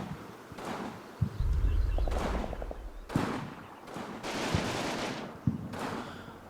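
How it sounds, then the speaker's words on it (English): Machine gun fire in the Combat Mission video game, heard as several rough bursts over a low rumbling background, with a few sharp thumps between them. "a machine gun unit has managed to recover itself and is opening fire on building number 4"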